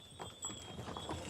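Donkey hooves clip-clopping on the stone paths of Santorini, a few quick, close hoof strikes in an uneven walking rhythm against faint background noise.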